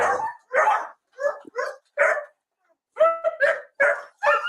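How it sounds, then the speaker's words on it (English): A big dog barks loudly and close in a police bodycam recording, giving a quick series of sharp barks with short pauses and a brief gap midway. "That's a big old dog."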